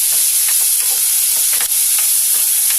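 Ginger garlic paste fries in hot oil with curry leaves for a seekh tadka, giving a loud, steady, close sizzle with faint stirring scrapes underneath.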